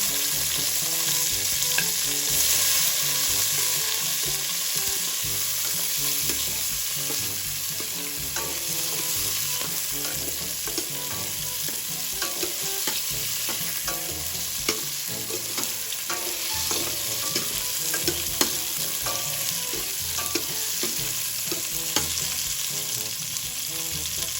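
Tomatoes, seeded, sizzle and fry in a pan for a Filipino salmon sinigang while being stirred, a dense continuous crackle with frequent small scrapes, close and steady throughout, no voices.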